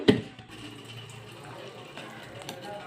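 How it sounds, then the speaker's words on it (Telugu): Water pours steadily into a mixer jar of ridge gourd peel chutney with a soft, continuous splashing hiss after a brief knock at the start. "కొంచెం వాటర్ వేస్తున్నానండి"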